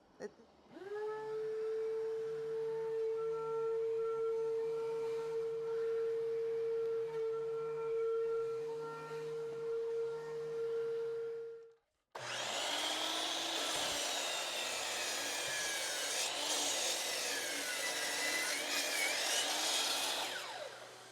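An electric planer starts with a rising whine and runs a steady, tonal hum for about eleven seconds, then cuts off briefly before a louder, rougher roar as a glued-up end grain cutting board is fed through.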